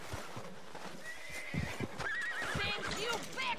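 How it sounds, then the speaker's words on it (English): Horse in the Red Dead Redemption 2 video game giving a bright, wavering neigh over soft hoof clip-clops, fairly close, with a voice briefly heard in the background. "that's a horse"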